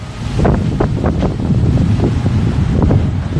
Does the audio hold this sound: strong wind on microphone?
yes